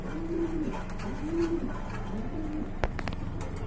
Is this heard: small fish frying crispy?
no